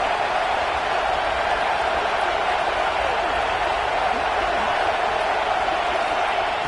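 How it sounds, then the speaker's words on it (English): Large football stadium crowd at a North Texas game roaring steadily near the goal line, a dense, continuous wash of cheering and applause with no break, no talk standing out. "the crowd really making some noise now, trying to help out this defense to get this stop near the goal line"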